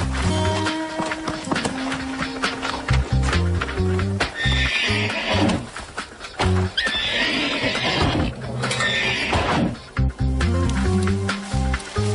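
A horse whinnies and its hooves pound at a gallop across fields in an animated riding series, loud and close over a steady background music score.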